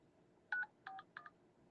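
Telephone keypad dialing tones while calling a cell phone, three short electronic beeps in quick sequence, clear and close against a quiet background.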